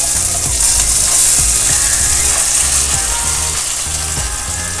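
Onions fry in hot oil with a loud, dense, continuous sizzle, close up and steady throughout, with faint scraping under it.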